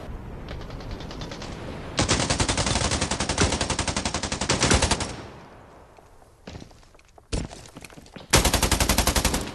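Rapid automatic gunfire from the mobile shooter Scarfall 2.0 fills the clip, with long loud bursts of shots, a brief quieter gap and then another short burst and a closing volley.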